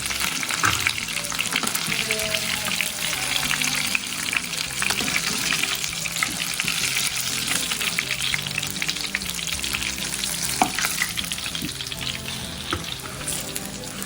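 Quail body pieces fry lightly in hot oil for biryani, a steady loud sizzle and crackle running throughout with occasional stirring scrapes and pops.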